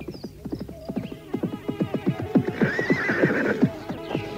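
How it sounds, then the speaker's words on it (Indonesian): Horse neighing with clip-clop hooves as an audio drama effect outside a hut in the morning, a loud whinny over steady, near hoofbeats that grow stronger, with no talk. "dikejutkan dengan suara kuda di depan pondok itu"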